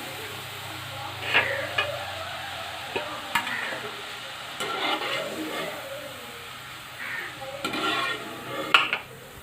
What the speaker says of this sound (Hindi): ये देखें इनके ऊपर थोड़े थोड़े से बबल आ रहे हैं